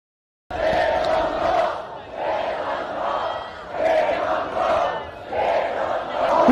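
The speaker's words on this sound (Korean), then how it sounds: "그날의 함성을 한번 들어보시죠." A large crowd at an outdoor rally at Olympic Park in Seoul chants and shouts in rhythmic waves, loud bursts of massed voices rising and falling four or five times after a brief silent start.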